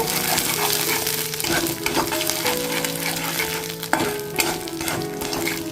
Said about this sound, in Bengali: হাফ চামচ হলুদ গুঁড়ো চামচ দিয়ে দিচ্ছি কাশ্মীরি রেড চিলি পাউডার দিয়ে এটা ফ্রাই করে নেব